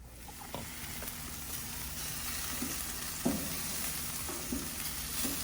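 Jerk chicken frying in a pan while being basted, a continuous close sizzle broken by several sharp spoon clinks and scrapes against the pan.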